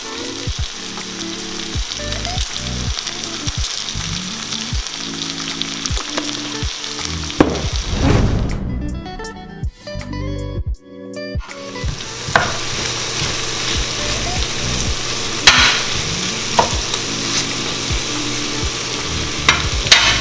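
Shrimp and other seafood fry in a hot pan, a loud, constant sizzle with scraping and stirring, a brief quieter gap midway, then crackling resumes strongly.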